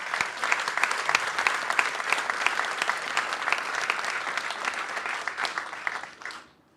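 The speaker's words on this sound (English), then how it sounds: "Give him a round of applause." An audience applauds a state energy official at a ceremony designating the Connecticut River, with dense, lively clapping held at a steady level that fades out quickly near the end.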